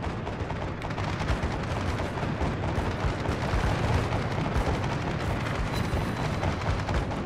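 Anti-aircraft guns firing continuously from the USS Omaha cruiser in World of Warships, a dense rapid rattle of shots and booms held at a steady, loud level throughout.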